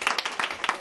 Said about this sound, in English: Let's give Lindsay a round of applause.